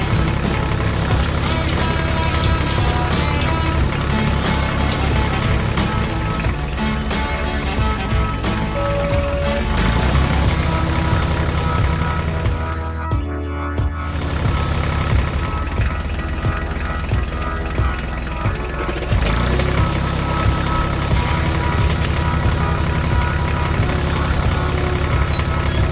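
A green tractor drives while pulling a trailer of fodder, its engine a loud continuous drone throughout with a brief dip midway, no voices present.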